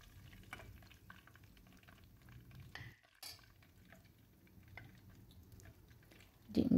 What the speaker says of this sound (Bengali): একটু নাড়াচাড়া করিয়া ভালোভাবে ব্রাউন করে লাল করে একটু বিরান করে নিমু